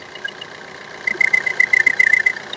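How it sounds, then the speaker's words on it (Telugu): A Maruti Suzuki Brezza ZDi diesel engine idles close by with a low steady hum, and about a second in a brisk rattling tick rises over it and carries on to the end. "ఇంజన్ పరంగా చాలా నీట్ సౌండ్ వస్తుంది"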